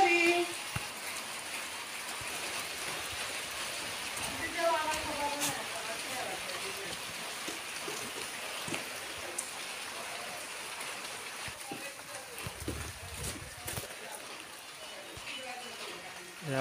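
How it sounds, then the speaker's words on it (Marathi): Steady rain falls in a Konkan village, a continuous broadband patter and hiss on surfaces throughout, fairly close, with some scattered knocks and faint background sounds. "आणि सध्या पावसाचं आगमन झालेलं आहे."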